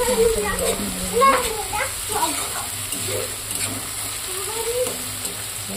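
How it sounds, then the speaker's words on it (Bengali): Onions frying in a pan on a gas stove, a low crackling sizzle with a few stirring scrapes, running beneath a person's talking through most of it. "গ্যাসের ফ্লেমটা কমে দিলাম। দিয়ে পেঁয়াজ এবার আস্তে আস্তে ভাজা হতে লাগবে।"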